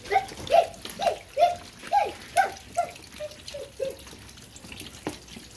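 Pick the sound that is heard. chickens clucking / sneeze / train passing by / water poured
water poured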